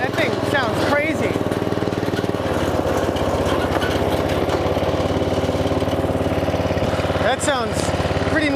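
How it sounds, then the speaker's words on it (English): An off-road lawn mower's swapped engine running close up, a steady loud rapid chugging with air rushing through the intake, and a voice briefly talking over it. "Boy, you can really hear that intake sucking air."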